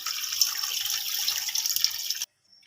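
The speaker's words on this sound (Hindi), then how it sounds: "3 कप हम इसमें डालेंगे पानी।" Three cups of water run into a cooking pot for white mutton pulao: a steady, bright splashing stream for about two seconds, then it stops abruptly into silence.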